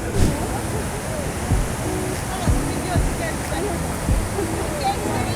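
Manavgat waterfall roaring in a steady, broad rush of water close by, with voices talking intermittently over the constant torrent.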